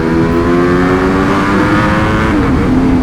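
A high-revving 2025 Ducati Panigale V4 S sport motorcycle engine roars continuously, pitch climbing and dipping as it accelerates hard, loud and close throughout.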